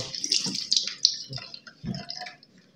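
Tap water splashes over a cooking pot lid being rinsed, close and in short uneven bursts, with clattering knocks of the lid against the sink.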